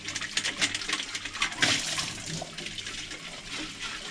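Water splashes and swirls inside a paint bucket being rinsed out during paint shop cleanup, a soft, continuous wash of running liquid with small irregular sloshes, heard alone at low volume.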